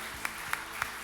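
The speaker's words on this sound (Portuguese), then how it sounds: "Você pode aplaudir a Jesus, queridos" Steady, evenly spaced claps at a church evening service, about three or four per second, fairly faint with a quiet background and no talking.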